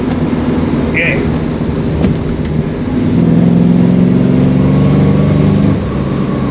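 A Holden HT with a swapped-in V8, not quite running on all eight cylinders, idles with a low steady rumble, then revs up to a louder, heavier drone that holds for a few seconds before easing back, heard up close.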